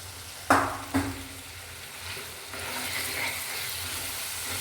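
Spice masala frying in hot oil for pav bhaji gives a steady sizzle with a couple of sharp clinks of a spoon or pan at the start, the frying hiss swelling slightly later on.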